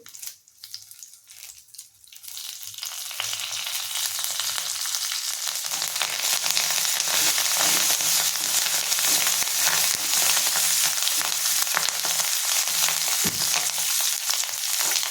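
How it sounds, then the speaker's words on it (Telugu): Garlic and curry leaves fry in hot oil for a tomato methi chutney. After a quiet couple of seconds, a loud, dense sizzle builds and holds steady close by, with no talking. "బాగా వేపించుకోవాలి."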